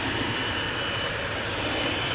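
A KLM Boeing 777-200 takes off, its engines giving a steady, loud, broadband roar close by throughout.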